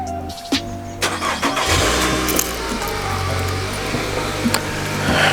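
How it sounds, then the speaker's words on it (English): A car engine cold-starts close by: a brief whirring crank, then the engine catches and settles into a loud, steady idle hum with a few light clicks on top. "let's go ahead and cold start"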